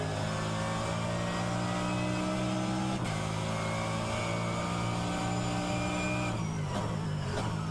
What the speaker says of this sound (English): I love the sound of the Merc.